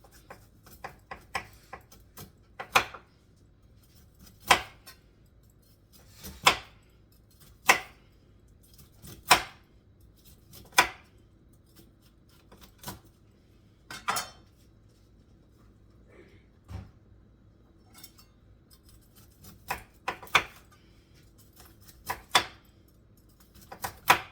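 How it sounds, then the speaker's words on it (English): Sweet corn is chopped for a Jamaican curry fish, a series of sharp knife strikes on a cutting board at uneven intervals, with quiet gaps between and a quicker cluster of cuts near the end. "So I have some sweet corn that I'm gonna put in my curry fish. Alright, so I'm gonna cut these corn."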